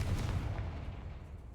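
A fiery Confringo spell blast from the game Hogwarts Legacy: a dull booming burst at the start that rolls off into a low rumble and fades over a second or so.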